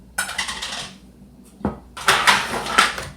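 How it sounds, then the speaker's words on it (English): Fresh blueberries, one pint, tumbled into a pie pan in a home kitchen. Two bursts of pattering rattles with a short gap between them, close and fairly loud, and no talk. "I'm going to add a pint in this pie pan."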